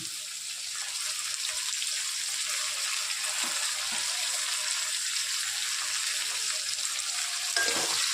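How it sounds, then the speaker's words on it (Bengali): Potatoes, peas and green chillies fry in a pan for a Maggi chow dish, making a loud, continuous sizzle throughout with occasional soft knocks from stirring. "আলুটা ভালো মতো ভেজে নেব।"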